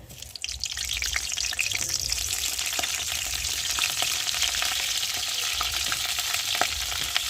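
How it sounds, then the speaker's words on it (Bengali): Cauliflower florets frying in hot oil in a wok over a strongly burning stove give a loud, continuous sputtering hiss that holds steady throughout, with occasional stirring clicks close by and no voices. "কড়াতে তেল দিয়েছি, আর এখন কপিগুলো দিয়ে ভালো করে ভেজে নেব।"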